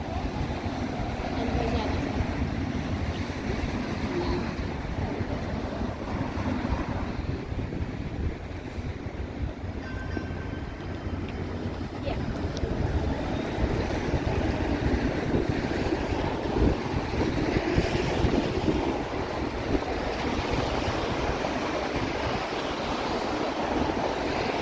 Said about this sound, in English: Yeah, it is a bit windy.